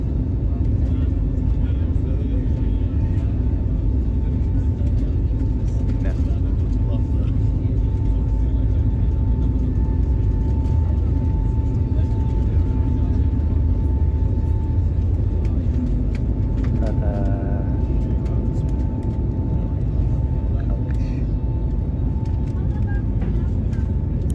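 Inside an airliner cabin just after takeoff on a flight to Skopje, a loud, steady low engine and air rumble fills the space continuously, with voices faintly present beneath it.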